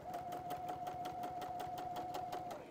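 A sewing machine stitches fabric for a reversible T-shirt tote bag, running in a fast, steady rhythm of needle strokes with a faint constant whine, close by and without talk.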